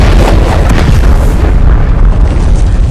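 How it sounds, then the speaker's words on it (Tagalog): A sudden loud burst of rushing wind fills the space inside an old church, a dense, roaring gust that hits hard at once and then thins out as it fades. "biglang pumutok ang bugso ng hangin mula sa loob ng lumang simbahan"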